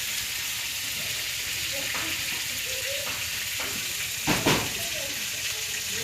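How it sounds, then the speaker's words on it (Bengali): Potatoes fry in a pan in a home kitchen, giving a steady, close, dense sizzle that runs throughout, with a couple of brief utensil clinks and scrapes near the end. "আমার আম্মু আলু ভাজি করছে"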